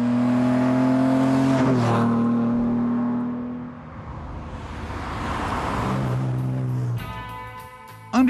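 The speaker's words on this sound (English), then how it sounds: "Under the hood was what he calls a whopper of an engine, a 3-liter single-cast 6-cylinder block." A 1968 car with a 3-liter six-cylinder engine is driven, its engine note holding a steady hum, dipping as it passes, then rising again with revving harmonics near the end.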